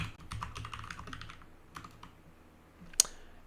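Typing on a computer keyboard, with quick irregular key clicks in bursts over the first two seconds, then a pause before one sharp louder tap near the end; close and fairly quiet, with no talking.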